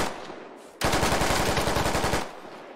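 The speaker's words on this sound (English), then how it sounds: "Caleb gets shot through the wall" Rapid automatic gunfire shooting through a wall in Squad Ops, a sudden loud sustained burst of evenly spaced shots lasting about a second and a half after a quiet lead-in, then cutting off.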